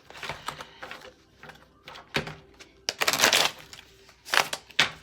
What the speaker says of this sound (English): Let me give it a couple of shuffles.